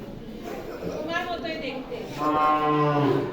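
A cow kept for the Eid sacrifice lets out two drawn-out moos close by, the second louder and longer, with people talking in the background.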